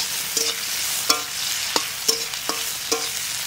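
Whole spices (bay leaf, cumin, cardamom, cinnamon and cloves) sizzle in hot mustard oil while a spatula scrapes the pan in six or so sharp, evenly spaced strokes over a soft steady hiss.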